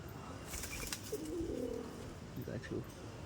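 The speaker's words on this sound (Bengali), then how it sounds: "গাছে দেখো ঘুঘু এসে বসে আছে" A dove perched in a tree coos with a few soft, low calls at a moderate distance, heard over steady outdoor background noise.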